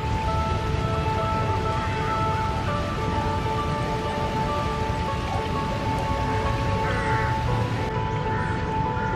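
Continuous storm rain in Lumphini Park, Bangkok, patters steadily on surfaces throughout, a dense even hiss with faint background hum and no clear talk.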